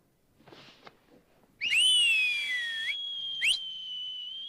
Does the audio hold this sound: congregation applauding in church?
no